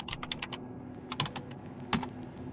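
Computer keyboard typing an rsync command in Linux: bursts of quick, close key clicks in three clusters separated by short pauses, with no talk.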